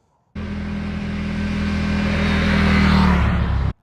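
The engine of a 2024 Indian Scout Classic motorcycle cuts in abruptly and holds a loud, close, steady drone that swells slightly before ending sharply.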